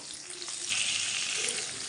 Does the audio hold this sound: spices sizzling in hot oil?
yes